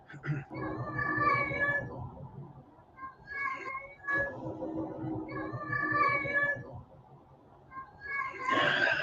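A house cat meows repeatedly at night, a few drawn-out calls close by and moderately loud, while a person talks over it throughout.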